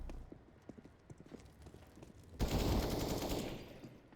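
A single gunshot fired during a competitive video game match, sounding as a sudden loud burst that follows a run of quick, light clicks and steps, then trails off into a noisy decay.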